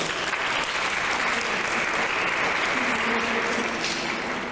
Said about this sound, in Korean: 저 뒤에 우리 박수로 해주세요.